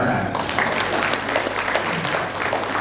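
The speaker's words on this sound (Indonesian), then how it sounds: "Tepuk tangan." Steady, dense applause from a large audience at a university anniversary ceremony, continuous and fairly loud throughout with no break.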